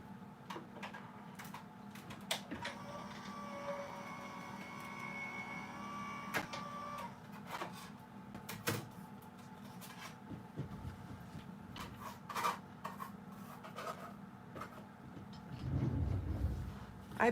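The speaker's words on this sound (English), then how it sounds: "my cutting machine is an electric Vagabond. So I'm just going to run this through my machine real quick." An electric Vagabond die-cutting machine runs with a steady motorized hum, punctuated by clicks and ticks, moderately loud and close, with a few clunks as the plates move through and no speech.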